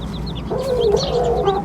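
Hen clucking softly while sheltering her chicks beneath her, a continuous low rhythmic clucking close by with faint higher bird chirps in the background.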